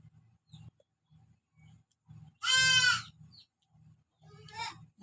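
A goat bleats once, loud and close, with a fainter second bleat near the end, over low rhythmic background thumps.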